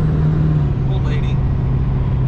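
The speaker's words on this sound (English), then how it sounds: "I go to pass this lady, and she wants to speed up to 75 from a 50. And I had to show her what my Duramax Tuner Turbo can do" Duramax diesel truck with a tuner and turbo accelerating to pass a car, a loud steady engine drone with a brief whistle-like whine rising in the middle, heard from close by.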